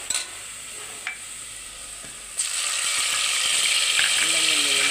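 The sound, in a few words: onions frying in oil in a pot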